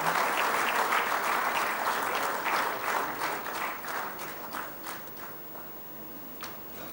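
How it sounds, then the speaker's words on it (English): Audience applause at the FFAI inaugural function and convention as a bulletin is unveiled, steady dense clapping from a large hall crowd that slowly thins and fades toward the end. "let's have a round of applause as we unveil to all of you the FFAI Bulletin."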